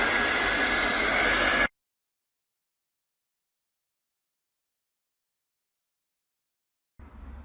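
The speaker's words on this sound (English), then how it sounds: "So I'm going to apply some heat" A heat gun or hair dryer warming a Xiaomi 9T Pro phone screen for LCD replacement, a steady close airy roar that cuts off abruptly, then silence before a brief return of the blowing.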